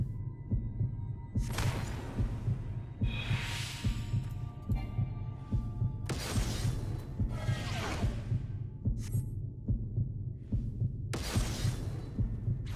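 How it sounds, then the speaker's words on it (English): Slow heartbeat in Final Fantasy XIV Shadowbringers, a low, steady throbbing pulse under a humming drone, with periodic soft whooshing swells washing over it. "Is that Thancred's heartbeat?"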